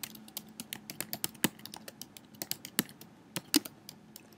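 R code being typed on a computer keyboard: a quick, uneven run of close key clicks with a few sharper, louder strokes and no talking.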